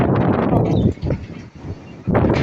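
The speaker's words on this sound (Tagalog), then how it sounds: "Sus, grabe lakas ng hangin." Loud wind buffets the microphone in heavy gusts, easing briefly in the middle before roaring back strongly at the end.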